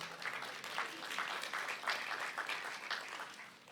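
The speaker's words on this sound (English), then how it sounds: "You can applaud." Audience applause at a prisoner reentry conference, a steady, moderately loud patter of many hands clapping throughout, with slight swells but no break.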